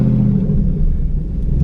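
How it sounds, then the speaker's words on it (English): Ford Crown Victoria engine straining as it accelerates with a fault that makes it stall and backfire, a loud close low rumble that holds steady throughout, with no distinct pops standing out. "Backfiring a lot, it's popping a lot."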